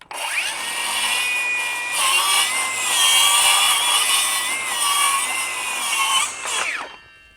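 A Milwaukee 2834 cordless circular saw cuts through a wooden board with a loud, high whining rip that holds steady for several seconds, then spins down abruptly.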